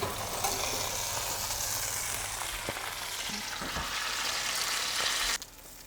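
Homemade chips on their second fry in hot oil, a loud, steady sizzle and crackle that runs without a break and then drops off sharply near the end.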